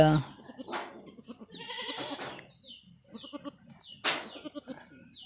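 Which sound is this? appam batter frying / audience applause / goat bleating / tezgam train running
goat bleating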